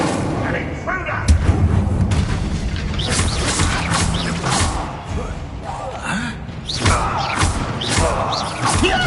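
An Incendio fire spell cast in Hogwarts Legacy bursts with booming, thudding impacts amid game noise, while a voice talks over the loud, busy action.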